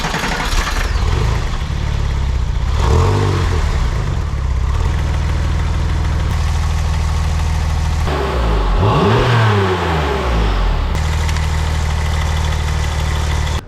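A high-mileage, worn Porsche 911 Turbo engine fires up and settles into a loud, steady idle, then is blipped into two sharp revs that climb and fall back, close by and with no talking.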